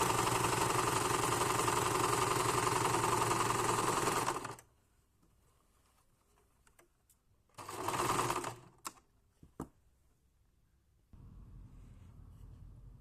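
An overlock sewing machine runs fast along a fabric edge, giving a loud, steady motor whir for about four seconds. After a quiet gap it makes a shorter burst, then a few soft clicks and a low hum.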